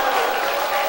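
Weak, scattered clapping from a church audience at a tenor's concert, a steady soft patter of hands over one second with no voices.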